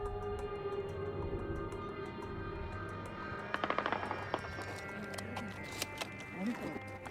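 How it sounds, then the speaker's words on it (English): Scattered gunshots pop in quick bursts near Culiacan Airport as a Mexican Air Force plane is fired upon. The shots sound moderately distant over a steady engine drone and background noise. "Ernesto Ramos captured the moment a Mexican Air Force plane was shot at."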